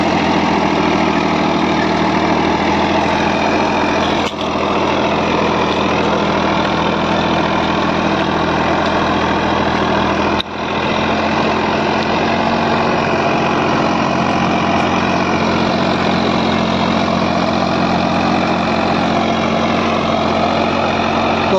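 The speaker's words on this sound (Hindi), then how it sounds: "ट्रैक्टर बहुत ही बढ़िया परफॉर्मेंस लेके चल रहा है ट्रैक्टर की रोटावेटर की।" A Sonalika tractor running a rotavator, its engine droning continuously with steady heavy vibration, loud and close, with a couple of brief clunks along the way.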